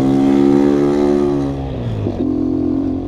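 A small delivery motorcycle engine revs hard with a strong buzzing tone, then its pitch drops as the throttle eases, close and loud throughout.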